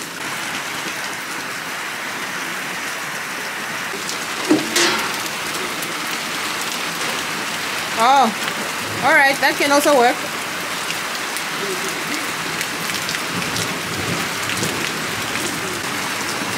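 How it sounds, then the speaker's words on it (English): Steady rain falls on a farm, a dense even hiss of drops on surfaces that runs throughout, with people talking briefly over it. "I am so glad that we got some rain."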